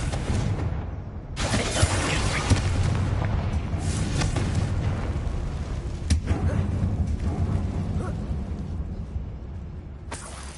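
Booming blasts and shattering debris from a Bombarda spell tear through a mine in the Hogwarts Legacy video game, a loud, dense burst with sharp cracks at intervals over a continuous rumbling game backdrop.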